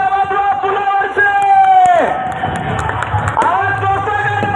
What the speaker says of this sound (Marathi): पुलावरची मंडळी जोरदार टाळ्या वाजवा